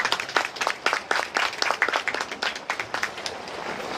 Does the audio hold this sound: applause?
yes